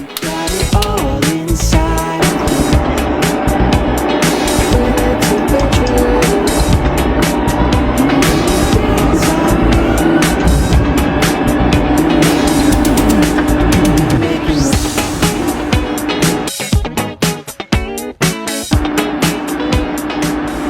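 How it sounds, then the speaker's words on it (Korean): Airliner engines roar continuously as a Boeing 737 or Airbus A320 takes off from the Gimpo runway in a flight simulator, a loud sustained drone with steady intensity and a brief dip near the end. "바로 제주공항으로 이륙해 볼게요."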